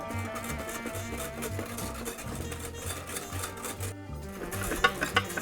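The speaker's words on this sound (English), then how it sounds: "I'm going to take a whisk and I'm just going to keep mixing it up until it gets really cold." A whisk churns BBQ bacon ice cream base in a bowl set over an ice bath, making quick, busy scraping and clinking strokes that run nonstop at a close, moderate level.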